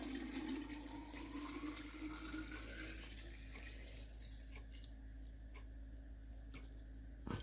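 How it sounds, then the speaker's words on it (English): Distilled white vinegar poured into a jar of boiled quail eggs, a steady trickling and gurgling stream that fades into faint drips and fizzing near the end. "we have our eggs, and I'm going to just fill that jar"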